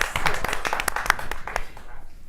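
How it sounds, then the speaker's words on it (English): Hands clap in a quick burst of light, rapid claps, moderately close and overlapping with talking voices, before fading out. "I'm gonna give a little clap for that."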